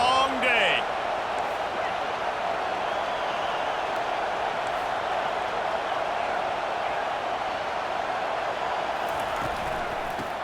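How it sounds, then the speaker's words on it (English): Crowd roar from College Football 25, a dense sustained wall of stadium noise that stays loud and even across the whole stretch, with a brief commentator's voice near the start. "This crowd, full throat, splitting the eardrums"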